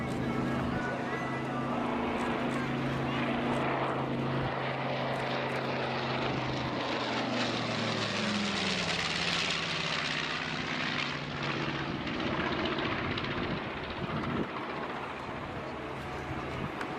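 A propeller-driven light aircraft performs an agile display at the Dunsfold Wings and Wheels air show, its engine droning and shifting pitch as it passes, while a commentator talks over the loudspeakers throughout.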